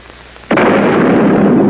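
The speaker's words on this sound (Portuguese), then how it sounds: "capaz de ouvir o troar de um canhão" A cannon fires with a sudden, heavy boom that swells into a loud, sustained rumbling roar after a quiet moment.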